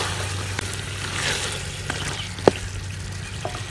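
Chicken karahi frying in a pan as ginger and green chilli go in, a steady close sizzle with a few small pops and clinks, no voices.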